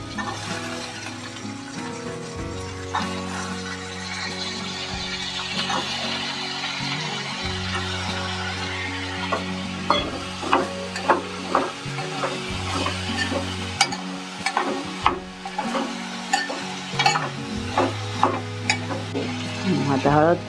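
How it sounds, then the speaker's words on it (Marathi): Green beans and potatoes stir-fry in a pan, a steady close sizzle with a low tonal hum underneath, and rhythmic scraping stirs that grow more frequent toward the end. "फरसबी घालूया आता. सोमते बटाटे पण टाकून घेऊया."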